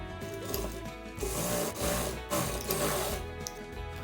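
A sewing machine stitches fabric for a three-tier summer frock, running in a steady, close mechanical whir with short pauses and changes of speed throughout.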